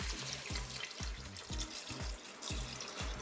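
Water poured into a Cookeo multicooker pot over uncooked rice and browned ingredients, a close, steady splashing pour with bubbling, gurgling pulses throughout.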